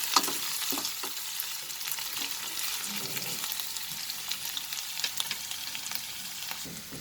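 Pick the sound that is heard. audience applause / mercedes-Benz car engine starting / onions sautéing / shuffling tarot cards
onions sautéing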